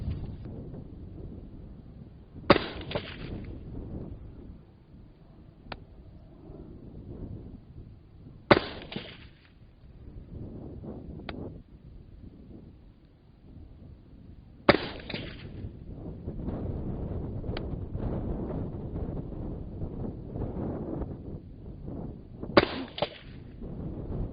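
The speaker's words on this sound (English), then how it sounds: "So let's put some rounds down range." AR10 rifle firing at range targets outdoors, four sharp, spaced shots several seconds apart over steady wind rumble, with fainter distant reports in between and no talk.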